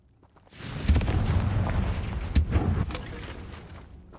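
The Bombarda and Confringo explosion spells go off in a video game, a heavy booming blast that rolls into a sustained rumbling roar with a couple of sharper cracks inside it before fading.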